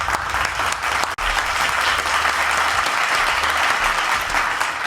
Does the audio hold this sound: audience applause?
yes